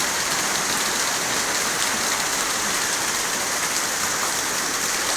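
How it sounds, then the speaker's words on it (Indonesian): Steady, dense morning rain falls over Sekar Kusuma in Wonosari, a continuous close hiss of drops on surfaces with no pauses and no voices. "Udan terus iki lho guys."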